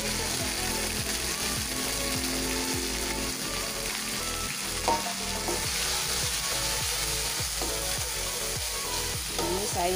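Garlic frying in oil for a spicy seblak with cilok, a steady close sizzle with scraping stir and clatter sounds running throughout, no voices.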